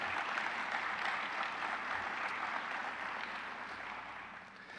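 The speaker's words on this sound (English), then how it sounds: "So would you guys give him a round of applause," Audience applause at a youth scholars' graduation, a brisk wall of many hands clapping that starts strong and slowly thins out, with no talking over it.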